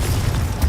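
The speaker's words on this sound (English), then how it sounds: "Confringo." A Confringo blasting spell goes off in Hogwarts Legacy as a deep, rumbling boom, sustained and dense in the low end across the whole moment, swelling again near the end.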